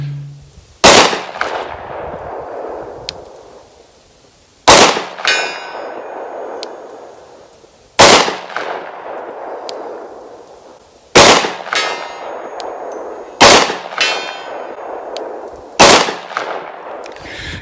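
A Springfield XDM Elite 10mm pistol fires six spaced shots, each a sharp loud crack followed by a ringing clang from steel targets, roughly every three seconds.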